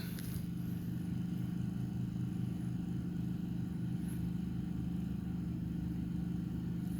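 A Westinghouse iGen4500 and a Briggs & Stratton P4500 portable generator run about 25 feet away with exhausts facing away, giving a quiet, steady low hum with no talking.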